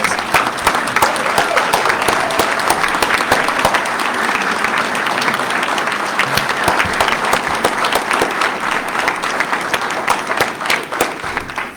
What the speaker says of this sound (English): Would you all please stand up so we can give you a round of applause?